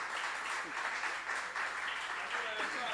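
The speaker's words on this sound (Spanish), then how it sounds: "vamos a darles un cálido aplauso a Juan José Becerra, al mago Rubén Capri" A theatre audience gives a warm round of applause for guests at a literary and magic event, a continuous fairly faint clatter of clapping with some voices mixed in.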